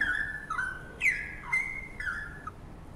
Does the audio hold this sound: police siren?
no